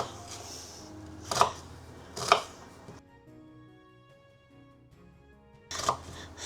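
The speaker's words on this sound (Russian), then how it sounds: "Здесь у меня 2 луковицы. И сравнительно по-крупному порежем." Knife chopping two onions coarsely on a board: two sharp clustered chop bursts close together, a pause of quiet, then another chop near the end, close and fairly loud.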